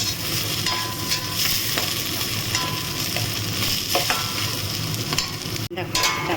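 Rice sizzling in a hot pan with whole garam masala, cinnamon, cardamom and cloves, for khichuri; a dense, steady frying hiss runs throughout with scraping stir strokes, and a brief break near the end.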